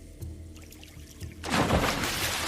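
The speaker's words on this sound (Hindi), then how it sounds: "इस लोहे की कुदाल को नदी में फेंक दूंगा।" An iron hoe thrown into a river, a sudden watery splash and churn following a few quieter thuds, close and brief.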